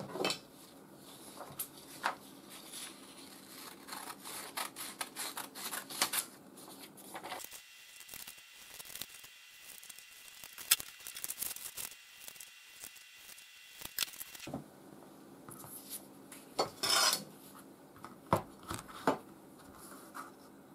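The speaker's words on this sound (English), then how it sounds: "So let's start by cutting the paper templates." Scissors cut paper templates for mirror tiles at a workbench, giving a series of close, crisp snips and rustles in irregular bursts, with a quieter stretch in the middle.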